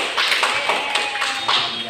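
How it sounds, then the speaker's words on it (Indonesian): A small group in a classroom claps for a student named Sinta and her family, producing several quick, uneven bursts of hand claps close by, with no talking over it. "beri tepuk tangan dulu kepada Saudari Sinta bersama keluarganya"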